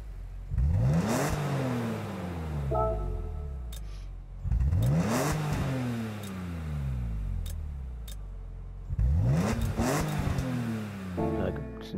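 Stock BMW car engine in the Gran Turismo 7 racing game revving hard three times, each rise climbing steeply and dropping back, loud and upfront with brief gear-shift breaks.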